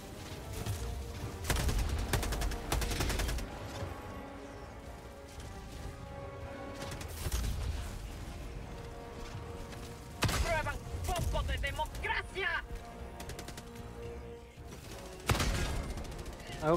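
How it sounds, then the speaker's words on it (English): Enemy gunfire aimed at the player in Helldivers 2, loud sharp volleys and impact crashes arriving in separate bursts over a busy game soundscape, with voices talking between shots. "The invisible man is shooting me."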